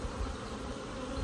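Honey bees swarming around an opened hive, their agitated buzzing forming a low, dense, continuous drone close by, fairly quiet but unbroken.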